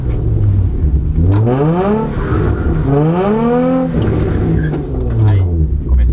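A car accelerates hard into a drift, its engine revving up in rising sweeps that climb, drop and climb again over loud, continuous road and tire noise.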